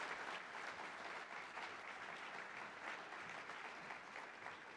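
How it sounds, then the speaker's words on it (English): Sustained applause from an award-ceremony audience at the Australian Museum Eureka Prizes, a dense, steady patter of many hands clapping at an even level throughout, with no voices standing out. "Give them both a big round of applause."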